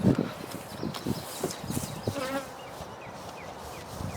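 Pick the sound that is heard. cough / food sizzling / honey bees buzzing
honey bees buzzing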